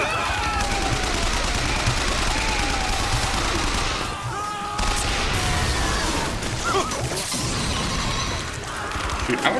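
Gunfire in Bioshock Infinite during a chaotic firefight, with bursts of shots, crashes and mechanical clatter layered into a loud, dense game mix, and a voice talking at times over it.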